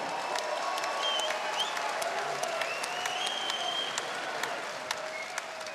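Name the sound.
crowd applause after kickboxing fight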